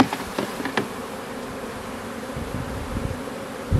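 Honey bees buzz steadily around a small hive, a continuous close insect drone with a few louder passes near the end.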